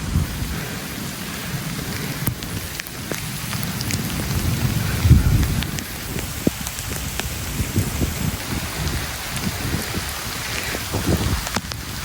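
Heavy rain pours down steadily in a Punjabi village, a dense close roar of drops with low rumbles of thunder rolling underneath throughout.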